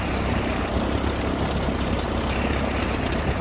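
A 1950s Piper TriPacer light aircraft engine runs loud and close, a continuous dense drone and propeller roar holding steady as the throttle is eased up, with no voices over it.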